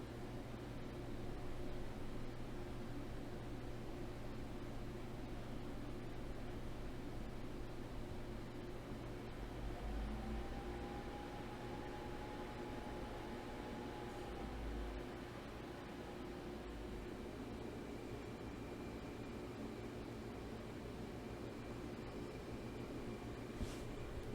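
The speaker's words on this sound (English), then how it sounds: "you can hear that hum of that motor get higher and higher pitch" Steady engine drone of a Cessna 172S with G1000 avionics in MSFS 2020 as the mixture is leaned rich of peak, a constant broadband hum with a faint tone rising slightly in pitch midway, no voices.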